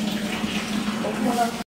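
Water runs steadily from a tap during flooding after a typhoon, a continuous close hiss and splash lasting under two seconds before cutting off abruptly.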